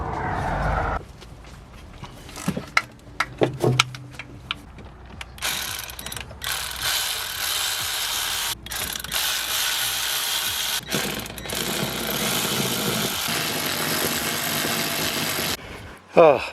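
Ratchet work on exhaust bolts of a Mini Cooper, with quick repeated clicking bursts early on, then a long stretch of steady mechanical whirring and rattling close by, cut by brief gaps.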